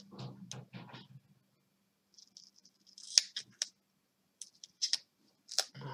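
Scissors cut a sheet of paper in two for scrapbooking and card making, giving a short series of faint, crisp snips and clicks in a quiet room, with a soft handling rustle first.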